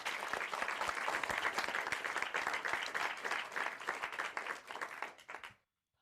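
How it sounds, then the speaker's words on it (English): Dense crowd applause at a gathering, steady and loud with many overlapping claps, continuing for several seconds before cutting off abruptly. "Give yourself a round of applause."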